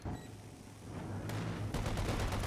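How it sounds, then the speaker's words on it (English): A heavy mortar barrage in the Company of Heroes 2 strategy game, a faint rumble that swells into dense, rapid overlapping blasts and crackling impacts, with small-arms fire mixed into the distant din. "Heavy mortar barrage coming in on the 50 cal"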